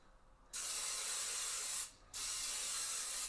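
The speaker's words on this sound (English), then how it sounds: "Cooking spray." Cooking spray hisses from a can onto an air fryer in two steady, close bursts, the first about a second and a half long, a brief pause, then a second of similar length.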